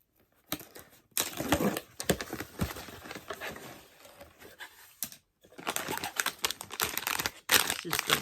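A bag of Weight Watchers butter popcorn is opened, producing close, crisp plastic crinkling that crackles in bursts for several seconds with short pauses in between.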